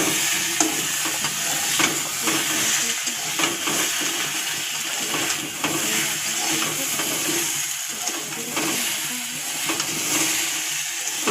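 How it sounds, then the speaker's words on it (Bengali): Cauliflower pieces fry in hot oil and get stirred in the pan, giving a steady, close sizzling hiss with faint scraping from the stirring throughout, and no talking. "ফুলকপিটা যতক্ষণ ভাজা হচ্ছে"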